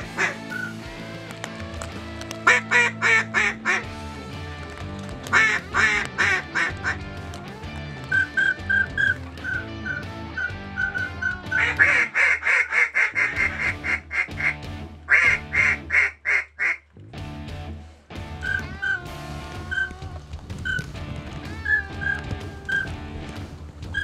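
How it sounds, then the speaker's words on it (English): Ducks quack repeatedly in bursts around a duck-hunting blind on a windy day, loud and close, mixed with whistle-like calls and short pauses between rounds. "Ducks are flying."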